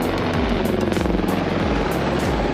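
Loud, steady rotor thudding of a helicopter coming and going close by on the Amarnath Yatra route via Pahalgam, a rapid chopping pulse over a deep engine roar.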